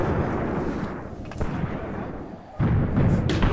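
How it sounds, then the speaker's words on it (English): Outgoing mortar fire on a World War II battlefield in the Graviteam Tactics: Mius Front war game, heavy rumbling booms rolling continuously with a sharper, louder burst near the end. "Look at those outgoing mortars"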